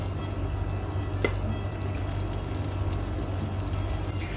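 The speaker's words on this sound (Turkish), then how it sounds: "Eriyen yağımın içine şöyle iki kaşık un atıyorum." Steady, soft sizzling of flour frying in melted butter in a pan, a constant crackly hiss with no talking.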